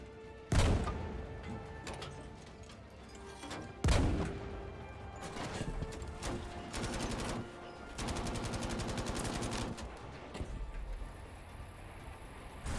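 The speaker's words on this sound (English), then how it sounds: "Oh, that's enemy artillery." Enemy artillery fire in Battlefield 5: two heavy booming blasts land a few seconds apart, followed by rapid rattling gunfire and dense battle noise throughout.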